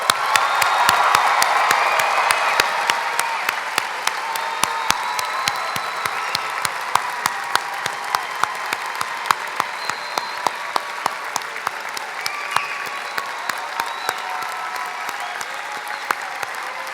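A large audience applauding new Penn State master's graduates at a fall graduate school commencement, sustained dense clapping that starts strongest and stays steady, with a faint murmur of the crowd beneath.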